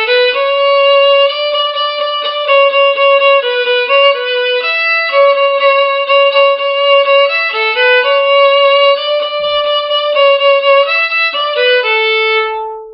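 A fiddle plays the plain main theme of Twinkle Twinkle Little Star as single notes, without double stops or slides. The tune runs steady and close for the whole stretch, bowed phrase after phrase with no talking.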